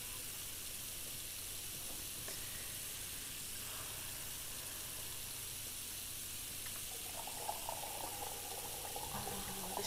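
Continuous hissing water pours into a sink in the Cooking Simulator video game, a steady rush throughout with faint clinks near the end and no talking.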